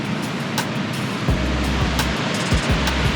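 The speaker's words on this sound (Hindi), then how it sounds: "नदी की आवाज़ आप सुनिए" The river at Chhitkul in the Kinnaur Valley rushes as a steady broadband roar, close and constant, with a few low thumps.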